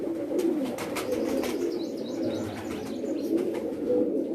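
Pigeons coo steadily on a rooftop in Mianwali, a continuous low murmuring chorus from many birds with occasional faint chirps over it, fairly close and without any talk.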